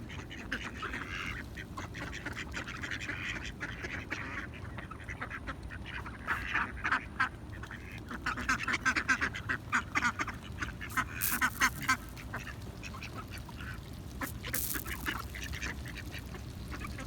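Ducks quack in short, scattered bursts while eating, over a low steady background, growing busier toward the middle, with no one speaking.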